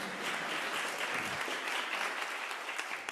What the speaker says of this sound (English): Give me a clap for the networks.